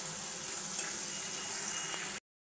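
Potato coated with turmeric fries in oil, a thin, even sizzle close by with faint crackles, running steadily before cutting off abruptly, no talk.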